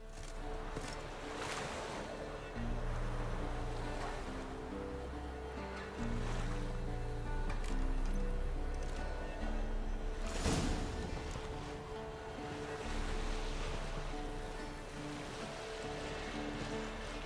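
A wooden boat crosses a lake in The Witcher 3, with steady water lapping and swishing against the hull over a low wind-like hum, continuous and without voices.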